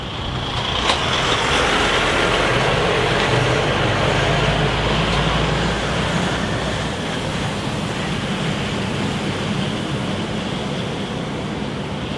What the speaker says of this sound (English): There's another lorry.